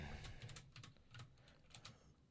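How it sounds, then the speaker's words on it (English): Quick, quiet typing on a computer keyboard, a close cluster of light clicking keystrokes in short irregular bursts with no talking. "I'm literally typing on the wrong computer"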